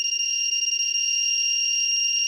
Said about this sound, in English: It's becoming a very strident and very annoying beep at the very end here.